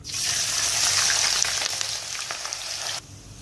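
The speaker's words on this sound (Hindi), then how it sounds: "इसी ऑयल के अंदर शामिल कर देंगे 4 मीडियम साइज के मैंने प्याज लिए थे" Sliced onions sizzle and crackle steadily in hot oil, a loud continuous frying hiss that drops off near the end.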